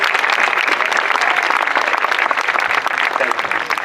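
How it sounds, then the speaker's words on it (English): Audience at a talk and fundraising auction applauds a pledge, a dense, sustained wash of many hands clapping at close range, steady and loud throughout with a slight dip at the end. "Round of applause."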